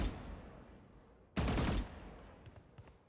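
A burst of video game gunfire cuts in suddenly partway through, loud and dense for a short stretch, then thins into scattered, fainter shots over low background noise.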